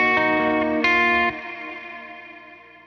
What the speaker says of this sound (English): it's doing this cool little thing where it bends the reverb sense